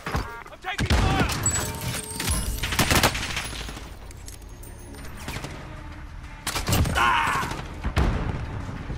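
Call of Duty Warzone gunfire plays as loud bursts of rapid automatic shots and thuds, with a quieter lull in the middle, under in-game voice lines.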